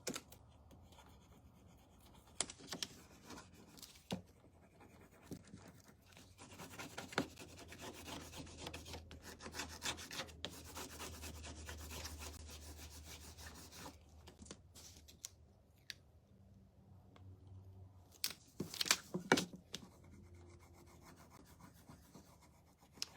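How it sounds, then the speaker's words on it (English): A rub-on transfer being pressed and rubbed down onto a tag, bent over its edge: soft, close scraping and rubbing strokes continue for a long stretch at low volume, with a few sharper papery scratches toward the end. "we can take it right over the edge just by bending it over and rubbing it down"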